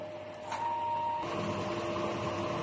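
DTF printer running a head clean: a mechanical whir and hum starts up, with a thin tone, then swells into a louder steady motor drone that runs close and alone to the end.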